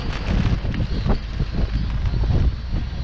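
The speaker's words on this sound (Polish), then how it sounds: "dzisiaj jest tak potworny wiatr, że muszę parasol trzymać" Strong gusty wind at the Brodzki Reservoir shoreline buffets the microphone, a loud continuous low rumble with irregular thumps and surges throughout, no voices heard.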